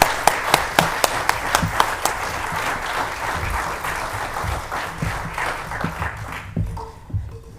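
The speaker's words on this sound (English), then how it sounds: "let's give another round of applause to these teenagers" An audience applauds a group of teenagers at a talk, opening with a few sharp individual claps before a dense round of clapping swells and then fades away near the end.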